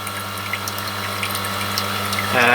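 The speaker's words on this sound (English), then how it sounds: "So that's where the water's coming in." Water trickles into a garden koi pond with a steady pump-like hum and continuous splashing, close and constant, rising a little louder near the end.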